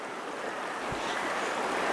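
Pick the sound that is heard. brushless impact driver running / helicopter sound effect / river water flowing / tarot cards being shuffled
river water flowing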